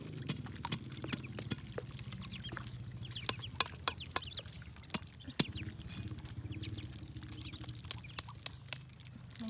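Hen and chicks feeding, with soft clucks and peeps mixed with quick pecking and scratching taps, faint and close, with no talking.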